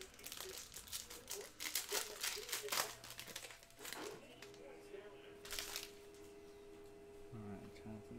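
Panini Prizm 2020 MLB hobby baseball card pack being ripped open, with loud crinkling and tearing of the foil wrapper up close for several seconds, then quieter handling and a low hum.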